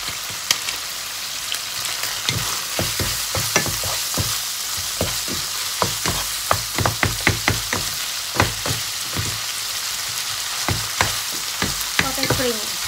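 Minced pork and spring onions stir-fry in a hot pan with kaprao seasoning powder added. A loud, continuous sizzle runs throughout, broken by frequent sharp clacks and scrapes of the spatula at an uneven rhythm, and no voice is heard.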